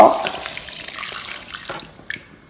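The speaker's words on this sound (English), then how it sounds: "A pinch of black salt, the sun-dried tomatoes, and then 700 mils of stock." Stock is poured into a pot for chicken jambalaya, a short liquid splash and trickle that tapers off over about two seconds, fairly close with no talk.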